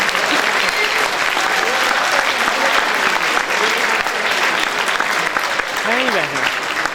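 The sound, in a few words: applause for martyrs at a prize ceremony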